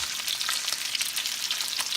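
Mixed seafood pan frying for kare kare, a dense, constant close sizzle and crackle with no voices.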